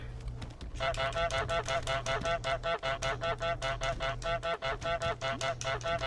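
Rapid, steady series of nasal goose honks from Untitled Goose Game, about two dozen loud repeated calls in quick succession over a low background hum, with no talking.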